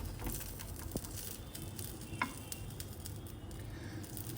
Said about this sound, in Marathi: आणि हे सगळं आता आपण इकडे ह्या तव्यावर भाजून काढणार आहोत दोन्ही बाजूनी थोडंसं तेल आपण खाली लावलेलं आहे